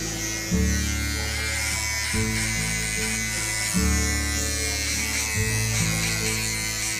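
An electric hair clipper trims a man's hair during a haircut, giving a steady close buzz that dips and restarts in about four passes.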